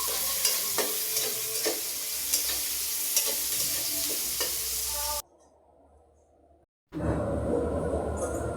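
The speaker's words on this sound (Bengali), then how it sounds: "আর একটু তেল দিয়ে আমি এইখানে পেঁয়াজগুলো ভেজে নিলাম" Onions sizzle loudly in hot oil with regular scraping stirs; the frying cuts out briefly to near silence, then bursts back in.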